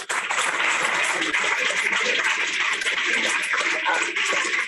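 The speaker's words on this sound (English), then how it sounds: "Claps for him." A classroom of school students applauds a classmate, a dense, steady wash of many hands clapping close by for several seconds without pause.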